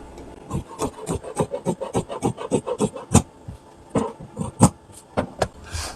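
Scissors cut through fabric for palazzo trousers in a rhythmic series of close, rasping strokes, about a dozen or more in quick succession, with no talking.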